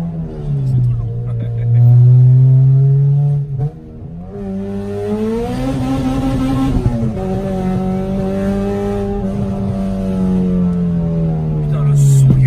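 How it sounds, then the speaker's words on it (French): A loud car engine drones and revs while driving along a road in the rain, pitch rising and falling through gear changes, close and continuous. "c'est la voiture qui fait le plus de son de toute la chaîne"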